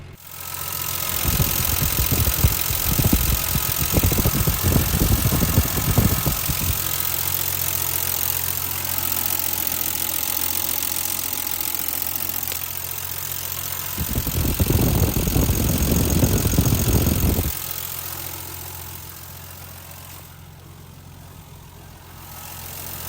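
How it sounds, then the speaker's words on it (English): The engine of a 1975 Triumph TR6 Roadster idles steadily with the whir of belts and a fan, swelling louder in two stretches, with no talking. "we'll get a good listen to those belts and the fan."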